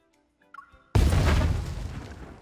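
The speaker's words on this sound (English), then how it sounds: "the pyrotechnics rigged for the explosion scene go off at the same time" Rigged pyrotechnics in the Love and DeepSpace game erupt in a sudden loud blast after a few faint clicks, followed by a sustained roar of rumbling debris that slowly tapers off.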